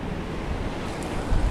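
Sea waves wash steadily onto the shore at a cold coastal fishing spot, a loud continuous roar of surf with wind buffeting the microphone and a slightly heavier surge near the end.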